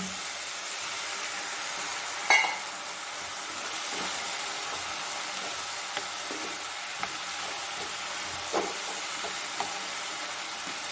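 Chicken keema with pepper powder, green chilli and a splash of water fries in a pan, giving a steady soft sizzle with occasional clinks and taps.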